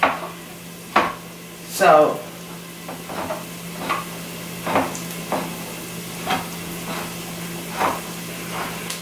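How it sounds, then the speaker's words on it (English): Meat browning in a pan for spaghetti sauce, with a faint steady sizzle broken by regular scraping stirs and utensil knocks about once a second, plus a brief spoken word. "all you're really gonna do is wait for the meat to brown"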